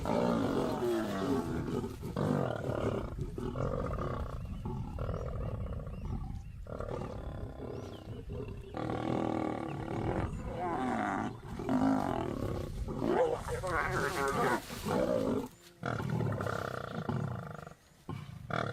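Male lions roaring and growling over a kill, deep throaty roars and snarls in close, loud repeated bursts with brief pauses between them, lasting the full stretch.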